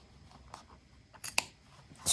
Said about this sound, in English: And then I'll come back in with the snips